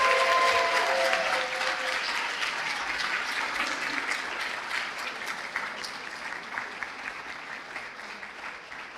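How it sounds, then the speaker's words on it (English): An audience applauds graduates at a Physician Assistant long white coat ceremony, loud sustained clapping that slowly thins and fades over several seconds in a large hall. "Please, one more round of applause for all of our graduates."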